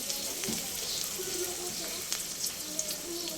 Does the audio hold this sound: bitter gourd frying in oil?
yes